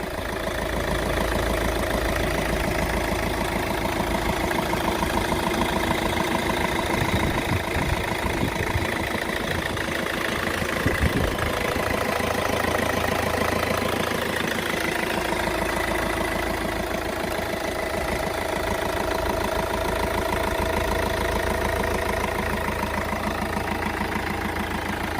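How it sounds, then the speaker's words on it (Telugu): A 2014 Hyundai Elantra diesel engine idles with a steady, even mid-range hum and faint knocking texture, continuous and close with no talking. "సో ఇంజిన్ సౌండ్ అయితే చూసారు కదా"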